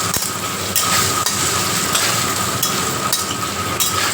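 Cut taro root pieces frying in oil, a loud continuous sizzle and crackle with intermittent stirring scrapes; no speech.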